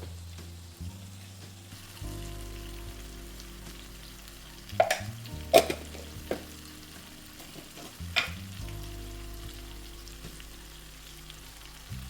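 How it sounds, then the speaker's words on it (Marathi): Spices being stirred into frying matki sprout bhaji: a continuous soft sizzle with a low hum, marked by several sharp spoon scrapes and knocks against the pan in the middle. "आता हे सर्व मसाले आपण या भाजीसोबत घाटून घेऊया"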